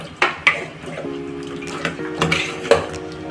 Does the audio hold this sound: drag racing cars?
no